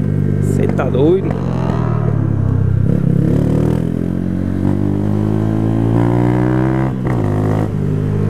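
A 2008 Honda CG 125 Fan motorcycle engine drones loudly while riding, its pitch rising and falling with throttle, with a few sharp popping bursts from backfiring, heard close beneath a rider talking over it.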